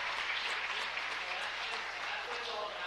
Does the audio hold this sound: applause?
yes